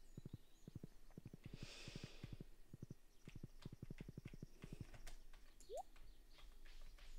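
Horse hooves clip-clop in the farming game Stardew Valley, two brisk runs of rapid, evenly spaced steps separated by a short pause, fairly faint over a quiet background with a soft chirp near the end.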